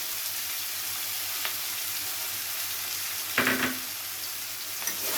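Chopped onions fry with a steady, bright sizzle in a pan while a fish dish is prepared, with a brief clatter of stirring partway through.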